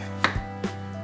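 A knife chops through a squash that resembles a pumpkin, giving two sharp, close cuts against a cutting board over a steady low hum.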